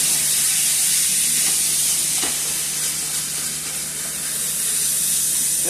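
Ground beef hamburger meat with Worcestershire sauce frying in a pan for shepherd's pie, giving a constant close, loud sizzle and hiss with faint stirring scrapes.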